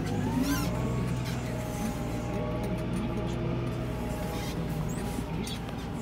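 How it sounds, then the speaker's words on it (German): A tractor's front hydraulics lift a Güttler prism roller with a knife bar, over a steady, close engine drone with a faint rising whine. "Fährt er da die Fronthydraulik an."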